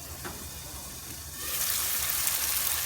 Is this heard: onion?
yes